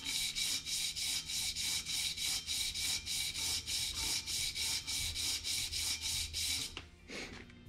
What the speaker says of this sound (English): this is the 220 grit starting out with first